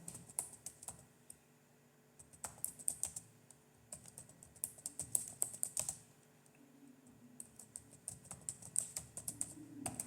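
Keys clatter on a computer keyboard in quick bursts of typing separated by short pauses, fairly close but quiet, with no voice over it.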